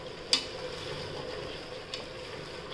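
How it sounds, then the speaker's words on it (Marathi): Potatoes, cauliflower and carrots are sautéed in a pressure cooker, giving a faint, steady sizzle under a couple of light spoon clicks against the pot. "छान परतून घ्यायचं।"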